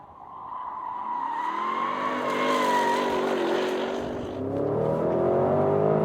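A Porsche Cayenne Turbo GT accelerates hard around the Gotland Ring racetrack, its engine note climbing steadily through the gears with a loud, continuous roar and brief tire squeal, close and dominant throughout.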